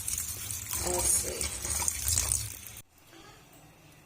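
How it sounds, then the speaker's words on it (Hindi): Water is poured over food while daal chawal cooks, making a splashing, rushing pour for almost three seconds that then stops abruptly. A voice speaks briefly nearby. "अब इस तरह से मैंने इसके ऊपर रोटी का पानी डाल दिया।"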